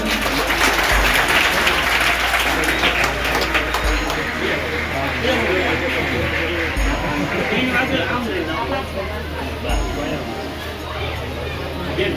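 A crowd claps at a village primary school event, sustained dense applause throughout with a voice speaking over it and faint background chatter.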